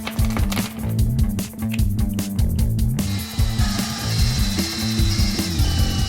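A power tool driving screws into plastic RC snow skis, its motor whirring in repeated short bursts with ratcheting clicks and pauses, close and loud with no talk.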